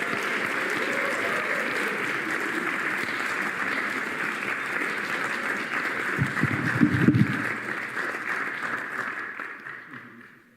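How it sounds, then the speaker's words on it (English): Warm applause from a church congregation at a Unity Sunday service in New Westminster, as two reverends are welcomed; dense, steady clapping fills the room for about ten seconds before tapering off at the end. "Please give me a warm round of applause for Reverend Thomas and Reverend Vicki."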